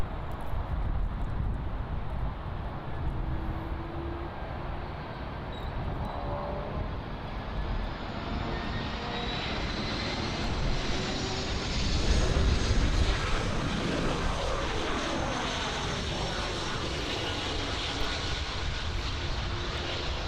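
An American Airlines Airbus A319-100 arrives at Miami International Airport, its steady jet engine roar swelling gradually to a peak near the middle and then easing off while staying strong and continuous throughout.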